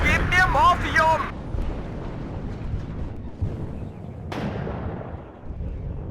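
Artillery fires in a WARNO multiplayer battle involving the 7th Panzer Division. A voice briefly at the start gives way to deep rumbling booms and a sharp, loud blast partway through, with low battlefield noise rolling underneath.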